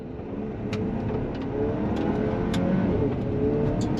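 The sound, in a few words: GMC Acadia AT4 SUV accelerating on gravel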